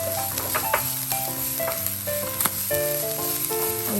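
Garlic sizzling in oil in a pan while cooking sinangag, Filipino garlic fried rice; a steady, crackling hiss runs throughout, with melodic tones layered over it.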